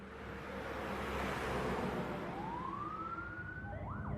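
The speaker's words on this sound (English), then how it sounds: "an ambulance and a whole bunch of police cars came screaming up and parked in front of her house" Police car and ambulance sirens wail together in a steady, blaring wash of emergency noise, with a rising siren sweep building in the second half, loud and sustained throughout.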